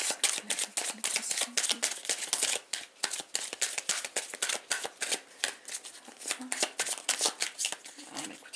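Oracle cards shuffled by hand, a rapid crisp riffling and flicking that runs nearly the whole time, close and fairly loud, with faint talk underneath.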